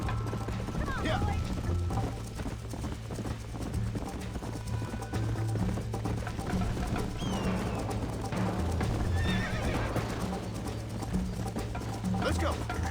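A horse gallops with rhythmic clip-clop hoofbeats in the Red Dead Redemption video game on PS5, with faint whinnies and birdsong over a steady background, and voices talking throughout.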